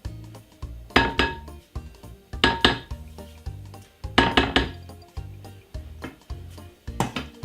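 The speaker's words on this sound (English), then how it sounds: "get a whisk and whisk it like this" A whisk beating sponge cake batter in a bowl, with quick rhythmic metallic clinks and scrapes in bursts that speed up and pause, close and fairly loud.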